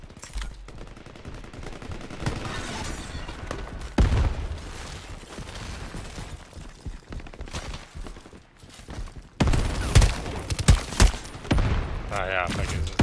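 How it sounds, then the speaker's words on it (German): Weapon fire in the online shooter game Shatterline, including grenade launcher shots: loud, dense bursts of gunfire and blasts recur throughout, with sharp impacts and heavier volleys, and a voice speaking over parts of it. "Granatenwerfer oder was er da hatte"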